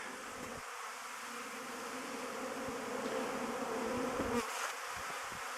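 Honeybees buzzing at an apiary during their first spring cleansing flight, a dense, steady swarm hum close by that swells slightly toward the end, with a few soft knocks in the background.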